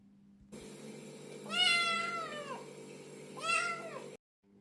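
A domestic cat gives two drawn-out meows, the first longer and louder, heard clearly and close, over a faint steady background hum with no talking.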